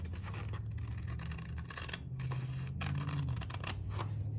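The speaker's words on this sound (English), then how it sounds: "that's going to take my big scissors here" Big scissors trim paper on a craft page, a few crisp scraping snips and rustles close by, quiet and with no talking.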